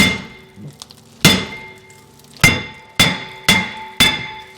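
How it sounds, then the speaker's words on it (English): Hammer blows ringing off a rust-stuck brake rotor on a 2021 Kia Telluride hub: one sharp metallic strike, then four more in a fairly even rhythm, each with a bright clanging ring that decays, close and loud with no talk. "Let's just give it a whack here with the Tanya Harding and see if we can break that loose"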